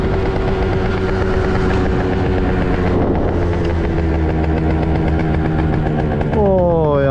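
An Italjet Dragster 180 scooter engine runs loud and steady while riding, with a droning tone that shifts pitch as the throttle changes and rises sharply near the end.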